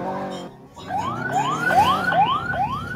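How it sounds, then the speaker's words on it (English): An ambulance siren in the Roblox game Philippine Driving Experience cuts in after a brief lull, repeating loud rising wails in a quick, regular cycle close by. "Oh, ambulance there."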